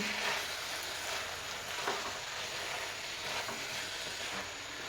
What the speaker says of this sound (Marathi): आता हे नूडल्स आपल्याला हलक्या हाताने असे परतून घ्यायचे आहेत फुल गॅसवर परतून घेतले तरी चालतील